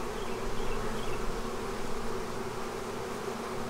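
Honey bees in an open hive, foraging on wisteria, buzz in a steady, dense drone that fills the whole stretch at close range, with no talking over it.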